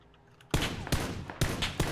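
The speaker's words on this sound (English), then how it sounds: "shots south to our right" Gunfire in the battle royale game PUBG, four sharp, loud shots at uneven intervals with short echoing tails after a quiet start.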